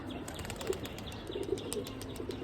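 Racing pigeons kept at home, with quick bursts of wing flapping and soft fluttering against a low background, plus faint cooing and chirps nearby.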